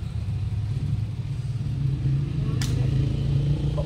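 A Toyota Fortuner engine that stalled while driving idles with a steady low rumble, close by, and a brief sharp click partway through.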